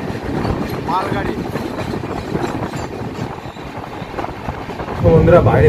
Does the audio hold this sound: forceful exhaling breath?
no